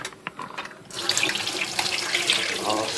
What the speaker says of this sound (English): And we will dump the water